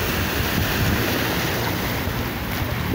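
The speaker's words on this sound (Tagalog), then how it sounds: "Ayan, maalon pa rin ngayong umaga." Rough sea waves on Manila Bay on a stormy monsoon morning, a constant loud wash of surf mixed with heavy wind noise, steady throughout with no talk.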